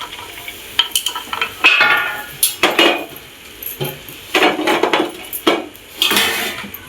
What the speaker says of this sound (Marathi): परतून घेतो.